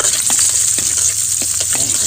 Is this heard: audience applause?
no